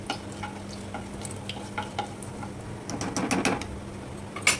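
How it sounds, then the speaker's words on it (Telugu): Cumin and mustard seeds frying in hot oil, a steady close sizzle with scattered crackles and pops and a burst of livelier spattering near the end, no talk. "సగం స్పూన్ జీలకర్ర, సగం స్పూన్ ఆవాలు వేసుకొని వేయించుకోవాలండి"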